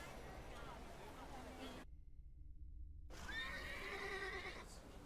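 A horse whinnies in a video game, a high wavering neigh following a stretch of background ambience and a brief silent gap, with faint chatter mixed in.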